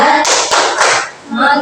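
Children in a classroom perform a rhythmic 'tepuk fokus' clap chant, a few loud, sharp hand claps in a patterned beat, with chanting voices mixed in between the claps.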